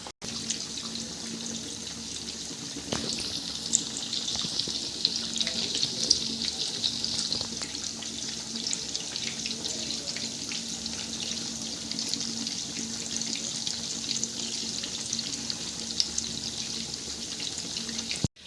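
Chicken pakoras fry in hot oil in a kadai, giving a steady, fairly loud crackling hiss that runs unbroken throughout with no one talking.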